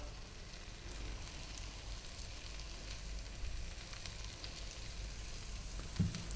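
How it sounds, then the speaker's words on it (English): Onion dropped into melted butter in a pan over medium heat gives a soft, steady sizzle that hums along evenly, with a small clunk right near the end. "So just melted that butter down, in goes the onion."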